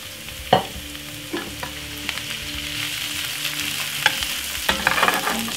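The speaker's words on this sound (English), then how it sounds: "I'm just going to just fry up this because I want my baby to eat some fish too" Fish frying in a pan for Jamaican escovitch fish hisses steadily and close, with scattered knocks and scrapes as the pieces are moved about.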